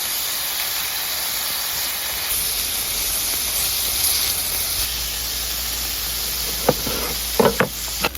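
Pork fat and lean meat sizzling in a pan, a constant close hiss of frying that runs throughout, with a few sharp clatters near the end.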